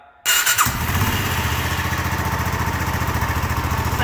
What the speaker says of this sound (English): the engine, when you fire it up